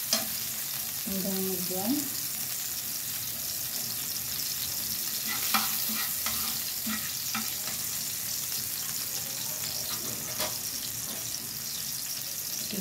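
Garlic sautéing in a pan for a pork stew with banana pith, a steady sizzle with scraping stirring strokes running throughout, plus a brief faint voice near the start.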